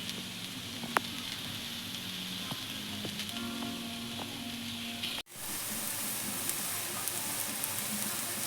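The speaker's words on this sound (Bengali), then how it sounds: "আমার পেঁয়াজটা ভাজা ভাজা হয়ে যাচ্ছে" Onions fry in a pan while ghugni is being made, producing a continuous crackling sizzle with occasional pops and clinks. The sizzle swells louder and denser partway through.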